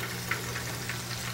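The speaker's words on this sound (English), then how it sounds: "Hear that sizzle." Corned beef hash brown patties browning in a frying pan give a steady, close sizzle with a low hum beneath and a few brief louder spits.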